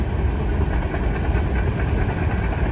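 A Norfolk Southern train rolls along the former Pennsylvania Railroad line near the Staple Bend Tunnel, a steady loud rumble of engine and wheels that stays close and constant with no voices.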